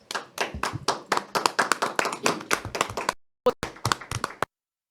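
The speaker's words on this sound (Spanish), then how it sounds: "Recibámoslo con un fuerte aplauso." A small audience claps at a Catholic program honoring Saint Joseph, with sparse, distinct handclaps in an uneven rhythm for about three seconds, a brief pause, then a few more claps before silence.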